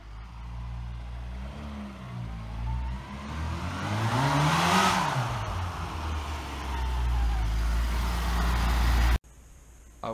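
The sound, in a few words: Mini car engine starting and running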